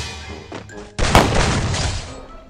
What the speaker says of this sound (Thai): แปะกับระเบิดไปอุ๊ตกใจเลย